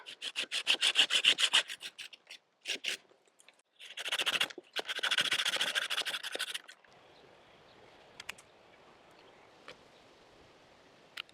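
Dead wood is trimmed from a fig tree: close, rhythmic scraping and rubbing strokes in bursts over the first several seconds, then the sound fades to a quiet outdoor background with a few faint ticks.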